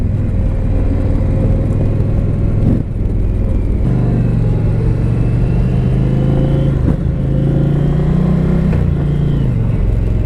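A 2020 Indian Challenger motorcycle rides along with a loud, steady engine drone and rumbling road noise, the pitch rising and shifting as the bike accelerates through gears.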